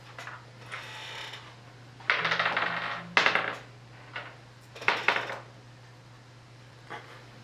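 Dice clatter across a tabletop in several separate bursts as players at a Dungeons & Dragons game roll for initiative, close and fairly loud against a steady low hum.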